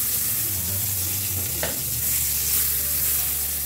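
Butter and a couple spoonfuls of oil sizzling in a hot pan for aloo paratha, a dense, even crackling hiss up close, with one brief clatter partway through and no speech.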